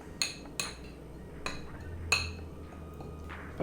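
A small spoon clinks against a saucer while mixing chili powder and steak spice, with four or five sharp, close metallic taps spaced irregularly over a quiet background.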